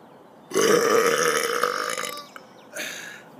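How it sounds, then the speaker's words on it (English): A single long, loud burp rumbles on for about a second and a half, then a shorter second burp follows after a brief pause. "For those of you who don't know what a burp is, behold."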